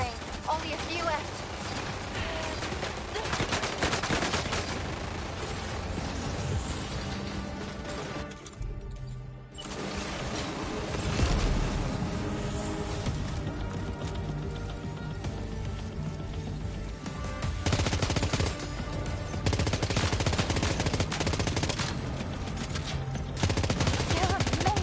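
Sustained video-game gunfire from Death Stranding 2, dense bursts of automatic fire and crashing impacts rolling almost continuously, with a short lull near the middle before the barrage resumes loud and close.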